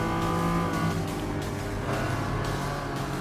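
Race car engines at full throttle in Gran Turismo Sport, including a Ferrari 512 BB fighting for position, a loud sustained roar with shifting pitch as cars overtake.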